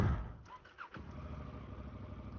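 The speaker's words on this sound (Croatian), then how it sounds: "I sad upališ motor" A Honda Africa Twin motorcycle engine cranks briefly and catches, then settles into a steady, close idle rumble with no speech over it.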